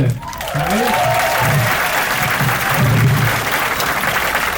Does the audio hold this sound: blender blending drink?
no